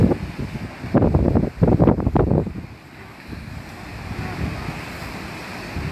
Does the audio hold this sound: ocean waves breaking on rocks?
yes